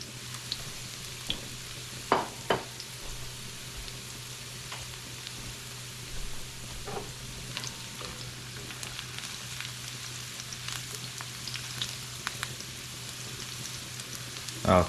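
Cubed squash and onion toasting in a frying pan: a quiet, steady sizzle with a few sharp pops and faint clinks, close by and with no talking.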